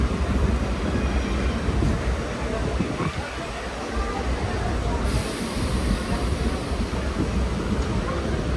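A passenger train running along tracks past tea gardens, a continuous loud rumble and rattle of wheels and carriages with a brief dip midway and a hiss rising later, no voices.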